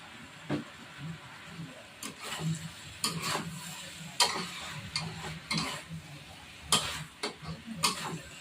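Irregular metal clinks and scrapes of a spatula against a small wok while stir-frying chicken offal with sweet peppers, with a soft sizzling hiss underneath and a few light taps.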